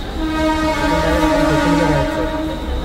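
Inside a moving train, a loud steady rumble of wheels on track sits under a sustained tonal horn or whistle that holds through most of the moment, with no talk.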